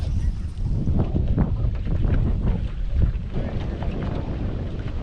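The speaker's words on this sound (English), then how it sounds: "What do you think the wind's blowing? 20? At least 20." A strong winter wind sweeps over Lake Lanier during fishing from a boat, a constant loud buffeting rumble with gusty surges close to the microphone and no clear talk.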